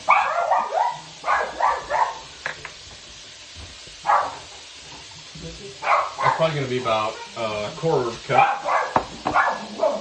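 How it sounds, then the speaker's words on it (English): A dog barks loudly several times in short bursts, interspersed with a person talking nearby. "Sorry about the dog. And He's very loud."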